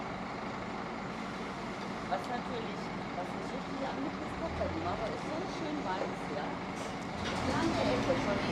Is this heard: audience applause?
no